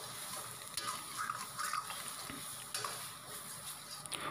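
Egg bhurji (scrambled spiced eggs with coriander leaves) frying in a pan over a raised gas flame, stirred steadily; a continuous sizzle with soft scraping strokes of the spoon, close and moderately quiet.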